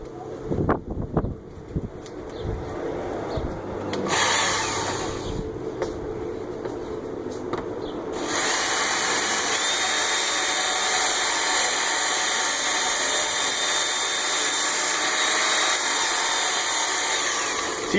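A Worksharp belt sharpener grinds an axe blade with a loud, continuous whirring hiss after a few short starts and pauses, then runs steadily and close for the rest.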